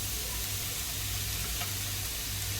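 Cabbage and carrots sizzling in a hot pan as they go in for veg cutlets, a steady, dense frying hiss with a low hum underneath, moderately loud and continuous with no talking.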